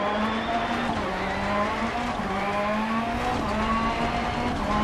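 A rally car racing in DiRT Rally, its engine droning steadily and close with a rising and falling pitch as gears shift, joined by tire noise, alone without talk.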